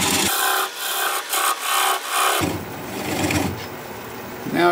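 A bowl gouge shears into weeping birch spinning on a wood lathe, giving loud rasping, scraping cuts in several bursts over the steady hum of the machine.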